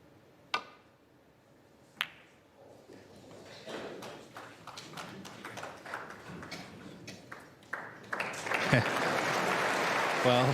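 Snooker audience at the 2024 Masters, Neil Robertson versus Barry Hawkins, breaking into applause: two sharp isolated claps, then scattered clapping that swells into steady, moderately loud applause.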